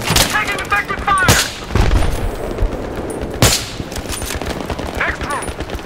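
Sharp bursts of gunfire and booming shots crack out close and loud during a night mission in the Battlefield 3 video game, with shouted voices in between.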